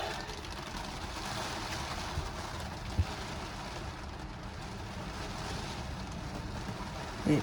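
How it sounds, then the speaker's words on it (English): Heavy rain pours outside as a steady, unbroken wash of hiss that holds level throughout, with a couple of faint knocks nearby. "It's absolutely pouring."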